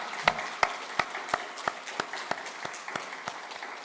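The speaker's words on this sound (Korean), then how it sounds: "우리 다음 세대를 위해서 다시 한번 힘차게 박수" Church congregation clapping rhythmically together in unison, each sharp clap evenly spaced and ringing in the hall, fairly faint and tapering slightly toward the end.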